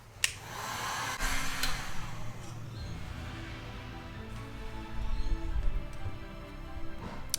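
Handheld dryer blowing steadily and fairly close over an Inktense spray-paint background on paper, a continuous airy whoosh with a few light knocks and rustles.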